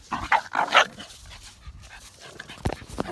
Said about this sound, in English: we managed to stop the fight, the dog fight